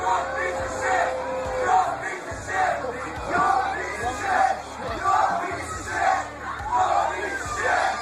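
A rock concert crowd keeps up a loud, rhythmic chant of disapproval aimed at a drunk singer, the massed voices rising and falling in regular surges with a steady thumping beat under them.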